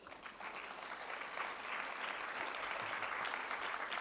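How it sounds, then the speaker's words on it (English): A conference audience at the 39th WAGGGS World Conference applauds steadily, a broad wash of many hands clapping that swells slightly and holds at a fairly distant, moderate level. "Please clap for yourselves."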